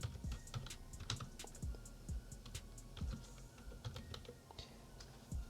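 Someone types on a computer keyboard while entering text into an Excel spreadsheet, producing a quiet, close, uneven run of clicky keystrokes with short pauses and no talk.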